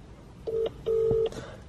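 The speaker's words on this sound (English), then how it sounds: "Okay, so call. All right guys, so I'm just calling now." An iPhone X placing a call: two clean electronic tones, a short one followed by a longer one, sounding close and clear over a quiet background.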